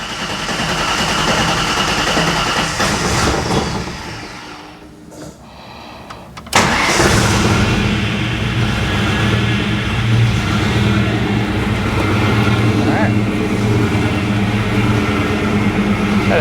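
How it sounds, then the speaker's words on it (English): Ford SN95 Mustang engine, freshly reinstalled, cranking and catching around the six-second mark, then settling into a steady, loud idle that runs without pause to the end, with a brief lull in sound just before the start. "try to get it started, get it kind of heated, warmed up some to where we can set the base idle"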